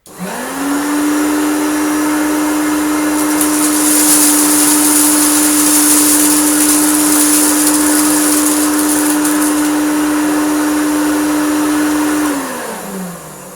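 A restored Hoover Turbopower Junior U1426 upright vacuum cleaner spins up, holds a loud, steady motor drone with a sustained humming whine for about twelve seconds, then winds down as it is switched off.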